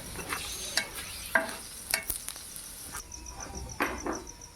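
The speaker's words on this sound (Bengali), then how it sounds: "এবার আমি অল্প অল্প তেল দিয়ে এটাকে আমি ভেজে নেব।" An aloo paratha shallow-fries in a little oil in a pan with a faint, steady sizzle. Sharp scrapes and taps from a spatula or the pan punctuate it at irregular intervals.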